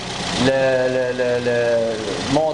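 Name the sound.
car engine running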